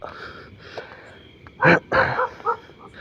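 A dog barks a few times in short, loud bursts close by, with faint whimpering noises and low background murmur in between.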